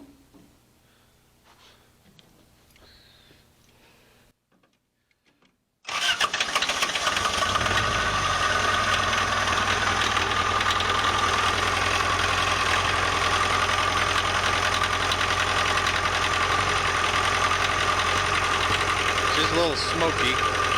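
Diesel engine of a Hustler 340 zero-turn mower with glow plugs cranking and firing after a quiet lead-in, then settling into a loud, steady, close-up idle with a knocking edge that runs to the end.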